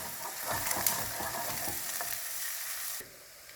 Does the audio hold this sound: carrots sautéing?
yes